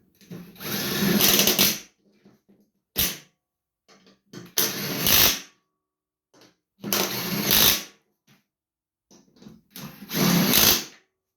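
A power tool fires in four short bursts, each about a second long with quiet pauses between, as spindle bolts are tightened down on a John Deere LA145 riding lawn mower.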